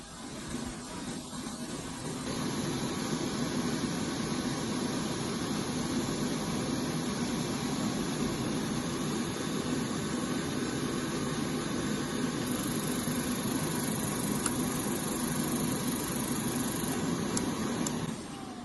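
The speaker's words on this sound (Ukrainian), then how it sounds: "Менеджер горіння намагається запустити нагрівач і проходить по циклу горіння." A gas heater's burner cycles through an ignition attempt during a gas supply cutoff, giving a steady, loud mechanical whir and airflow rush with a faint high whine running throughout, without any voices.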